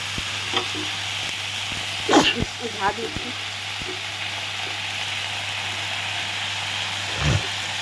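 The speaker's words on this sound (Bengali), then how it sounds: "এখন আমি পাতাগুলো দিয়ে দেব" Bottle gourd leaves being added to a pan and stir-fried in a home kitchen, with a soft steady sizzle, a few scraping stirs and clatters near the start and end, and a steady hum underneath.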